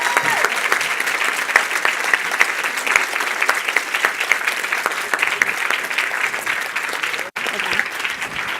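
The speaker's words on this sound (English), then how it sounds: "Now you may applaud." Applause from the audience at a closing plenary of a finals event: sustained, dense clapping at a steady, fairly loud level, breaking off for an instant near the end before resuming.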